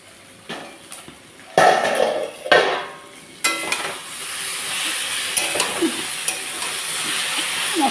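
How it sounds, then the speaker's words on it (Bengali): Potato and taro pieces are stirred with spices in a pan, a spoon scraping and knocking against metal in a few loud strokes, then a steady sizzle continues underneath with occasional clinks. "মশলার সাথে আলু কচুটাকেও আমি ভালোভাবে কষিয়ে নিলাম।"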